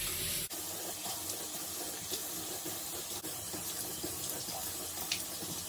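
A bathroom tap runs steadily into a sink while someone washes their face, a continuous close splashing hiss with a couple of brief knocks.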